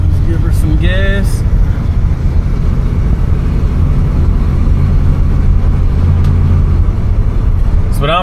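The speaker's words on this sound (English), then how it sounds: "let's give her some gas" A 1970 Oldsmobile Cutlass Rallye 350 runs with a steady, loud low engine rumble throughout, and brief voices and squeaky tones come near the start.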